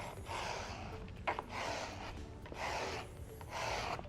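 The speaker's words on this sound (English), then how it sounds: "I'm going to grab my squeegee, and we're just working this first area here" A squeegee rubs protective film onto plastic vehicle trim in repeated soft, close scraping strokes, each a few swipes long, with no talking.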